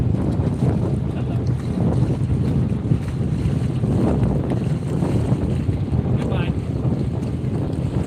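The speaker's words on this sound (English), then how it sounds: "So the wind's coming from that direction" Steady wind roars across a Kansas reservoir as a fishing boat drifts, a constant buffeting rush of wind noise on the microphone with faint water lapping beneath, no pauses throughout.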